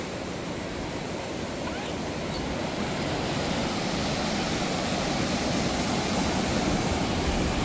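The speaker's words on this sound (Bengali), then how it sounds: "সমুদ্রের ঢেউয়ের কিন্তু বেশ ভালোই স্রোত আর কি" Sea waves breaking on the beach at Mandarmani with a strong current, a continuous broad roar of surf that swells slightly and stays steady throughout.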